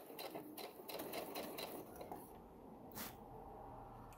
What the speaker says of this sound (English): Okay, so I'm going to back stitch,